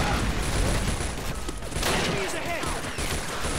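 Gunfire from the World War II video game Faces of War, dense bursts of shots and explosions filling the whole stretch, loud and continuous, with someone talking over the battle.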